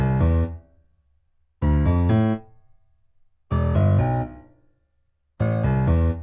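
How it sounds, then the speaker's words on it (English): A layered Kontakt piano patch in FL Studio, EQ'd with extra bass, strikes four full, heavy chords, each held briefly and then left to decay into silence before the next, up close with no voices. "This is what the first piano sounds like."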